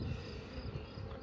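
Honeybees buzzing at a drone-rearing hive, a dense, steady, close swarm hum with no pauses and no voices.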